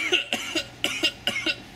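Repeated coughing after smoking a Supercharged Kush Cup joint: a series of about seven sharp, rough coughs in quick rhythmic bursts, close and fairly loud, with no talk.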